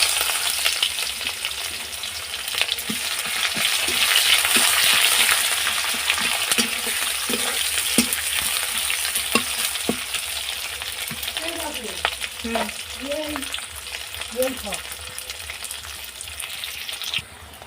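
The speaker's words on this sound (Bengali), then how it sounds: "পেঁয়াজগুলো ভাজা ভাজা হয়ে গেছে" Onions frying in a kadai of hot oil with five-spice, dried red chillies and bay leaves: a loud, close, continuous sizzle with occasional spatula scrapes and soft bubbling pops.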